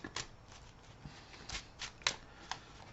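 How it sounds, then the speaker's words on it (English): A deck of cards is shuffled during a Marvel Champions tabletop game, with several soft riffling bursts spaced over a few seconds and quiet in between, with no talking. "Shuffle my deck."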